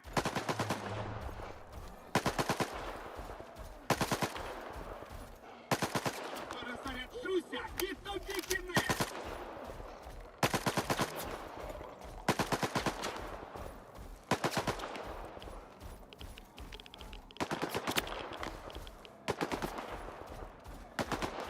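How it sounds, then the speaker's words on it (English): Automatic gunfire crackles in bursts during a firefight in the video game STALKER 2, with repeated rapid volleys at a moderate distance and occasional louder cracks. Speech is mixed in alongside the shooting. "So who are they shooting at?"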